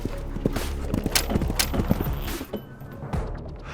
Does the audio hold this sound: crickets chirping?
no